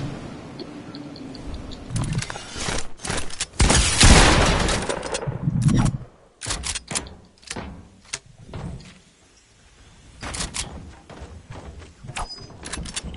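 A drum gun in a video game fires in loud, rapid stuttering bursts, starting and stopping several times with brief quiet gaps between sprays.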